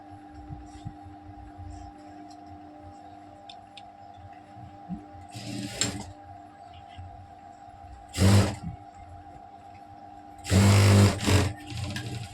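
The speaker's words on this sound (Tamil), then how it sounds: "அதே மாதிரி இதை மடித்து நம்ம திருப்பி ஒரு தையல் போட்டுக்கலாம்." A sewing machine stitches a hook-and-loop strip folded over for a return seam, in short loud bursts of motor whirring over a steady hum, with talk running through the quieter stretches.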